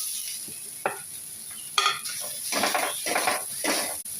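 Grated coconut frying with onion and turmeric in a pan for a cabbage and carrot thoran, a bright crackling sizzle with repeated scraping stirs and metal clinks, close and loud.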